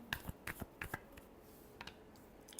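Tarot cards being shuffled in a few quick riffling bursts, close and fairly quiet, with crisp papery flicks clustered early and a couple more near the end.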